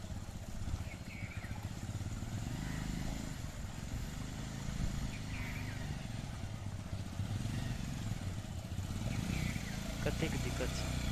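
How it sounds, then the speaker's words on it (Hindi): A motorcycle pushes slowly through floodwater on a waterlogged street in Janakpur after two days of rain, its engine droning low and steady in the distance beneath a continuous wash of water and background murmur. "मोटरसाइकिल केना आबै छै से।"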